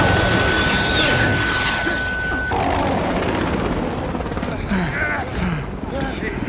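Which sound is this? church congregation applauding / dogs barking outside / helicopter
helicopter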